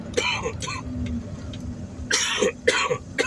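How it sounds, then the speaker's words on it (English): A person coughing a few times indoors, with short harsh bursts separated by quiet pauses and throat clearing between them. "excuse my cough, guys."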